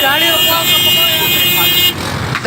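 Motorcycles passing on a road near an election site, carrying engine noise, with a loud horn-like tone throughout and voices talking over it.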